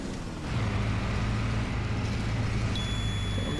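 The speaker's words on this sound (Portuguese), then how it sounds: "Agora vamos ver se o ônibus vai subir mesmo." In a bus simulator game, an articulated bus engine drones loudly and steadily as it climbs a steep hill, a low continuous hum with a faint high whine joining near the end.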